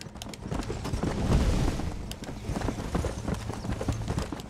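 Rapid horse hooves clip-clop steadily in the Red Dead Redemption video game, a galloping rhythm of dense, close hoofbeats with no voices over them.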